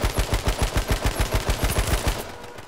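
A rapid burst of AK-47 automatic gunfire in the video game H1Z1: King of the Kill, steady rattling shots in quick succession lasting about two seconds before fading out.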